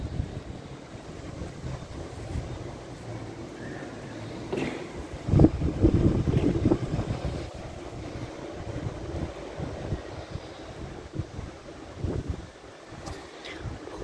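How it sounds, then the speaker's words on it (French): Strong north wind rumbles and buffets the microphone during an isolated thunderstorm near Lyon, swelling into heavier gusts midway before easing and rising again. "Pas mal de vent de nord."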